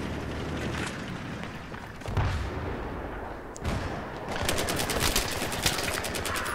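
Gunfire from the video game Battlefield 3 crackles in the mid-distance, a steady wash of rattling shots and booms that grows into a dense, rapid burst of automatic fire near the end.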